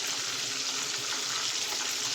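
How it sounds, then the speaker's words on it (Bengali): Papaya frying crisp in a pan, a steady, even hiss of sizzling oil that holds constant throughout without talk. "তো এবার ভাজাটা কড়া করে ভেজে নেব"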